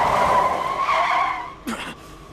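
A car's brakes lock up, and its tires squeal loudly in a long, sustained screech that fades out, followed by a brief sharp scuff near the end.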